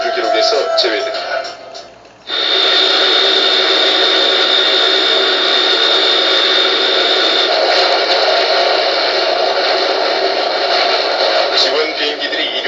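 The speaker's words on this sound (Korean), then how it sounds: "지원 비행기들이 이륙하자 사방은 온통 한 채 앞을 분간할 수 없는 모래먼지로 가득 찬다." Support aircraft taking off at a desert stage of the 1996 Dakar Rally in the Sahara: a loud, steady engine roar with a sustained high whine begins abruptly after a short lull, while a voice talks over it.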